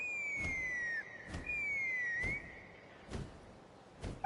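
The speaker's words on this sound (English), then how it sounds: "That sounded like a whistle." A whistle sounds in Genshin Impact, used to summon a Kukusaur. It plays as a couple of long, clear tones that slide in pitch, with soft thumps in the background and no speech.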